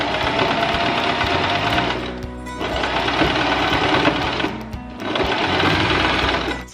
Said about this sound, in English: So I'm just going to take this to the sewing machine and do a regular stitch over here just to connect everything.